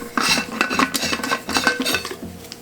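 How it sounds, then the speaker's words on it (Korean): A stainless steel vacuum-insulated container is handled while its lid is opened, with a quick run of close metallic clinks, scrapes and taps. No voices are heard. "뚜껑을 한번 열어보겠습니다"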